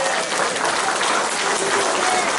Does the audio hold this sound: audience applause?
yes